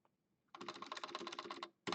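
Rapid, steady keystrokes on a computer keyboard as a command is typed during Windows Server setup, a dense burst of about a second followed by one final separate key press, close and clear.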